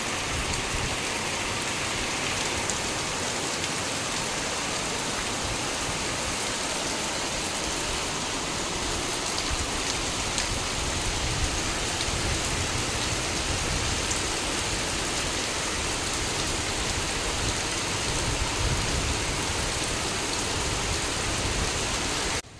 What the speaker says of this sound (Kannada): ಮತ್ತೆ ಮಳೆ ಸ್ಟಾರ್ಟ್ ಆಗಿದೆ ನೋಡಿ